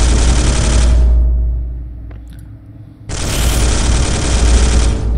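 Gunfire from a unit in the Space Hulk video game: a loud, dense burst of rapid automatic fire, a brief gap with faint clicks, then a second sustained burst, with no voices.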